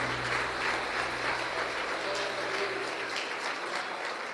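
A church congregation claps in a dense, even wash of applause that carries on steadily throughout, fairly loud with no talk over it.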